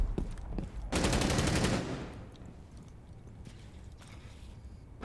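A rapid burst of automatic gunfire in a video game replay rattles loudly for about a second, followed by quieter scattered game sounds and soft distant shots.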